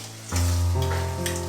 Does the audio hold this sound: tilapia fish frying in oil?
yes